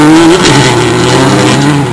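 Rally car pulling away from the start of a forest gravel stage, a loud, close engine note climbing steadily through the revs for two seconds with no voices.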